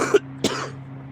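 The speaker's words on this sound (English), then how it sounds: "I gotta stop coughing." Two short coughs from a man, a sharp burst followed by a second one a moment later, close and fairly loud over a low steady hum, then quiet.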